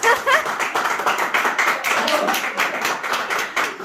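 Clapping heard coming from inside a room, a fast, continuous patter of hands close by and fairly loud, with brief voices mixed in.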